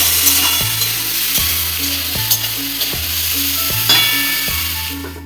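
Bitter gourd and potato pieces fry together in a pan with salt and turmeric, giving a continuous sizzle under regular spatula strokes that scrape and knock the pan roughly every second, with no voices.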